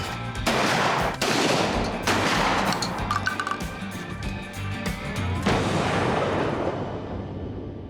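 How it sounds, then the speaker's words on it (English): Shotgun blasts at clay targets during a youth conservation camp in Kentucky, several loud outdoor shots spaced a second or two apart, each with a long echoing tail. "let them apply some of these skills they learned with the shotgun, see if they can handle it safely while they try to shoot some clays"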